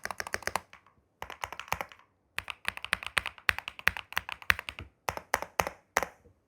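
Typing on an Epomaker Glyph retro typewriter-style keyboard gives bursts of crisp, clacky keystrokes in quick rhythmic runs separated by short pauses, close and distinct with no talking.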